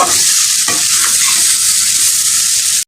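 Spice paste stir-fried in hot oil for a pabda fish curry with potato and papaya, a loud, dense, continuous sizzle close up with scraping strokes, cutting off abruptly at the end.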